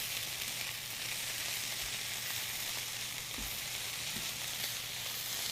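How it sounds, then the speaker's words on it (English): Food frying and sizzling in a pan after being stirred, ahead of more ingredients including canned tomatoes, a steady close hiss alone with no talk. "we're just going to stir that up and let it sit for just a minute"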